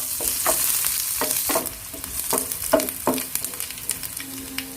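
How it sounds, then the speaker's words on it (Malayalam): Mustard seeds crackling and spluttering in hot oil while a carrot-beetroot dosa chutney is tempered, sharp irregular pops over a steady frying sizzle, close and fairly loud with no voices. "കടുക് പൊട്ടാൻ തുടങ്ങിയിട്ടുണ്ട്."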